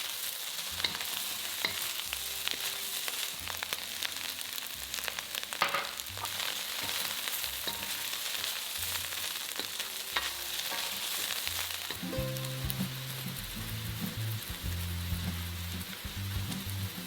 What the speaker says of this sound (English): Now we're going to return the shrimp and add the pineapple pieces. Stir fry for another 30 seconds.